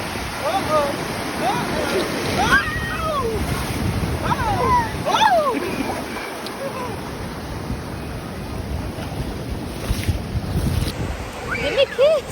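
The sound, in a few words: ocean waves at the beach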